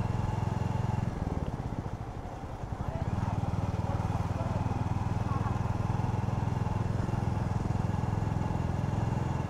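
A motorcycle on a 400 km road trip from Kolkata to Ranchi gives a steady, loud engine drone with constant road and wind rumble. The noise dips briefly near the start, then holds even, with a voice faintly underneath.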